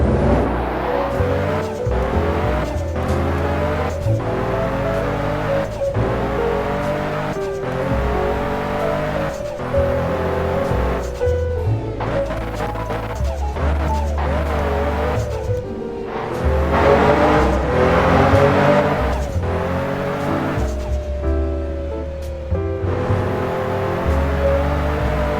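A car in the Roblox game Midnight Chasers revs loud and close, its engine climbing through repeated gear shifts with rising and falling pitch and occasional tire squeal.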